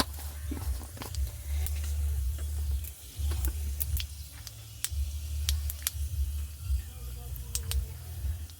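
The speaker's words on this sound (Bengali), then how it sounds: "5 ফোড়ন দিয়ে দিলাম।" Panch phoron five-spice tempering crackles and sizzles in hot oil in a kadai wok, a steady frying hiss with scattered sharp pops, close and moderately loud throughout.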